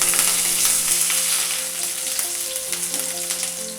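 Mustard seeds, dried chillies and curry leaves sizzle loudly in hot oil, a close, continuous crackle with scattered pops that eases slightly toward the end, under a faint steady hum.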